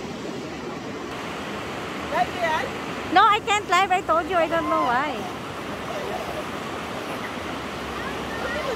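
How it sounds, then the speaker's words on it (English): Strong-current water at Alwin Holland Lake near Hudson's Hope rushes steadily throughout, a constant wash under people talking in the foreground. "look at the water. The current is so high"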